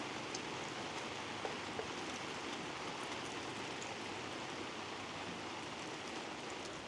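Steady rain falls at a campsite, an even, dense hiss of drops with a few louder taps on nearby surfaces, continuing without pause and with no voices.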